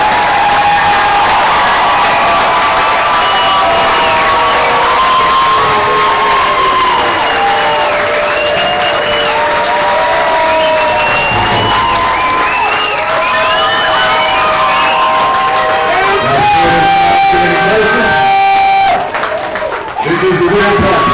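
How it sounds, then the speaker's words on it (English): Commencement audience at a 2021 Lawrence County career and technology center graduation giving graduates a loud, sustained round of applause, with cheering and whoops mixed in throughout. "Ladies and gentlemen, a nice round of applause for all of our graduates."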